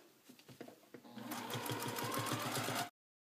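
A sewing machine doing free-motion quilting, stitching in the ditch around a rectangular purple quilt piece; a few slow needle strokes speed up into a fast, steady, close mechanical whirr that cuts off abruptly.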